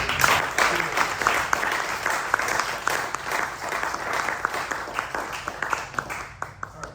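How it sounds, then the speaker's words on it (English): A crowd at a Hall of Fame induction ceremony applauds steadily, dense clapping that stays loud and even for several seconds before starting to thin out at the end. "I want a round of applause for all of you guys"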